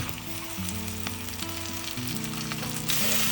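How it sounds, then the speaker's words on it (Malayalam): Food sautés in a home kitchen pan toward a light brown, giving a steady, close sizzle with a faint melodic tone running underneath and a slight rise near the end. "ഒരു ചെറിയ ബ്രൗൺ കളർ വരുന്നവരെ നമ്മൾ വഴറ്റണം കേട്ടോ."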